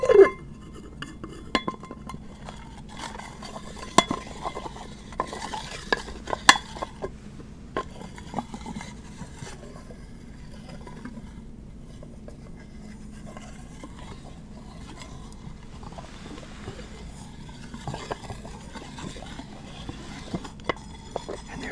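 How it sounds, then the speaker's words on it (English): Small metallic clinks and rubbing sounds from a coppery metal candle lid being handled, scattered and faint against a quiet background. "the metal lid on there makes an interesting sound. It's kind of a coppery metal lid."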